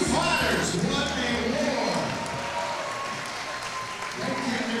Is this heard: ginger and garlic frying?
no